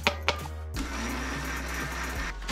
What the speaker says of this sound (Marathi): आता आपण मिक्सरवर आपलं तांदूळ आणि पाणी हे एक्झिक्यूट करून घेतलेलं आहे